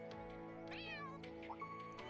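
A kitten in the video game Trails Through Daybreak 2 gives a couple of short, high meows over soft game music, fairly quiet and close.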